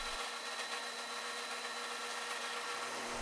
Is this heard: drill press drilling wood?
yes